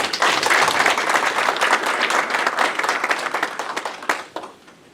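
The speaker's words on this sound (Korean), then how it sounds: "우리 박수 한번 쳐주시죠." Residents at a town meeting with the mayor of Sejong give a dense round of applause that holds steady and then tapers off near the end.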